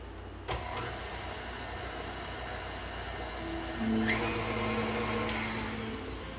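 An electric mixer beats cream cheese cookie dough, a steady motor whir that rises in pitch and grows louder partway through after a brief knock, continuous and close.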